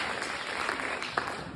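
Brief, soft burst of audience applause at a comedy show, steady crackling claps heard from a distance with a single sharper clap near the end.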